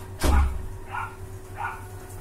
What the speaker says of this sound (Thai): แล้วหมามันก็เห่าเนาะ